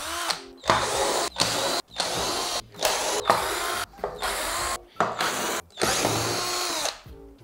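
A power drill whirs in about seven short, loud bursts, each separated by a brief silent pause, as it drives out the screws holding a wooden battery cover on an electric scooter.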